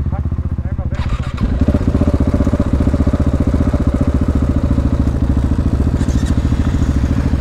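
A cold KTM SMC R supermoto engine runs loud and close throughout, a steady thumping single-cylinder idle that picks up into fast revving against the rev limiter after the first second, with people talking over it.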